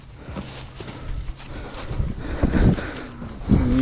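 A mare walking on a farm, her hooves clip-clopping in an uneven rhythm of close, moderately loud steps, with some wind noise.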